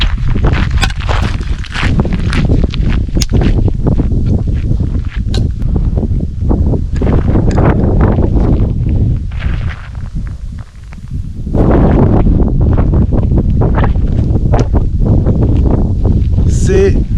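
Wind gusting on the Camino de Santiago near Castrojeriz in Burgos, a steady loud rush and buffeting over the microphone that dips briefly midway, with footsteps and rustling underneath and someone talking throughout.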